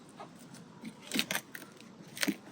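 Packaging being torn open from around new Honda Civic replacement headlights, a few sharp crinkling rustles and rips close by, spaced through a quiet workshop.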